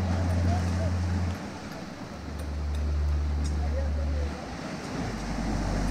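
Pacific surf washing against shoreline rocks along a coastal trail between Boca de Tomatlan and Colomitos Beach near Puerto Vallarta, a continuous broadband wash beneath heavy, gusting wind rumble on the microphone.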